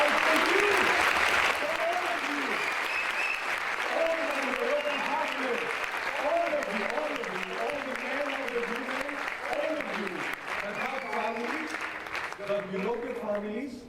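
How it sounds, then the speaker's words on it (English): Sustained applause from a large conference audience in Casablanca, dense and close, as someone speaks loudly over it into a microphone while the clapping carries on throughout. "A huge round of applause."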